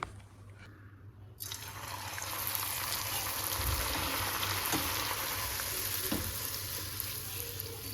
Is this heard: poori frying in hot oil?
yes